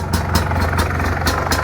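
A motorcycle engine idles with a newly sealed exhaust connector, a loud steady close rumble with regular pulsing bursts.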